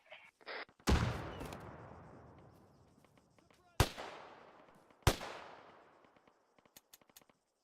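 Gunfire in the Arma 3 military shooter during section training: a few loud, sharp shots with long reverberant tails ring out at spaced intervals, with faint clicks and distant pops between them.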